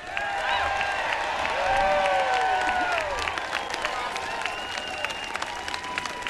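A standing audience applauds after Governor Gretchen Whitmer's inauguration speech in Michigan: sustained, dense clapping from a large crowd throughout, with a voice talking over it.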